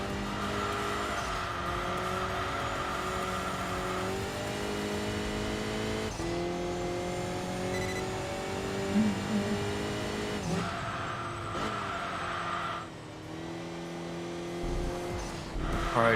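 Race car engines in the video game Enthusia Professional Racing rev and downshift repeatedly into a hairpin, exhaust notes rising and falling as cars brake and accelerate, with occasional tire squeal, steady and fairly loud.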